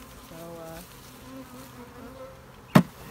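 Honey bees buzzing near and steadily while a nucleus colony is tapped and smoked into a new hive, ending in one sharp knock.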